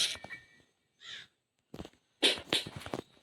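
A crow caws in the Granny video game, several harsh, separate calls in short bursts with silent gaps between them, close and clear with no talk.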